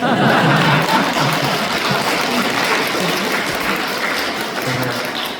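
Congregation at a Won Buddhist installation service at Wonnam temple applauds an arriving minister, sustained, close and loud clapping that eases slightly toward the end.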